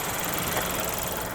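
A 1.2 liter Ecotec flex-fuel engine in a 2025 Chevrolet Trax runs steadily under an open hood, a close, even hum with no voices.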